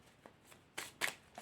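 Tarot cards are handled and drawn during a full moon reading, a few soft, quiet card slides and snaps scattered over a brief moment.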